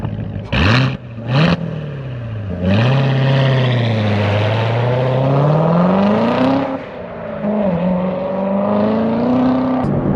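Chevrolet Corvette C7 Z06, 650 horsepower sent to the rear wheels, roars loudly while driving, with two sharp revs up front and then a sustained, rising and falling engine note that builds through gears.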